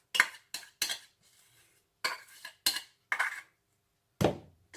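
Ginger garlic paste being stirred in a pan with a metal spoon during a chicken roast, in short separate scraping and clinking strokes with quiet gaps between them.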